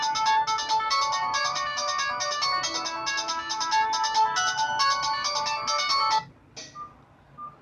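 A Nokia 3310's ringtone plays a busy, chiming melody for several seconds, then cuts off abruptly, leaving a faint tail and quiet.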